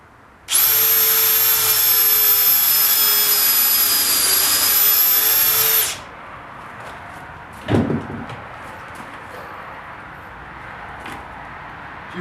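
A power drill bores a hole in wood while building a pull-behind camper trailer: one loud, steady high whine lasting about five seconds stops abruptly, then a brief clunk follows in quiet room tone.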